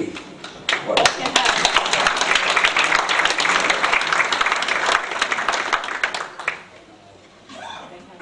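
Audience applause fills a cinema after a screening, a dense sustained burst of clapping that holds steady for several seconds before tapering off, with a brief renewed patter at the end.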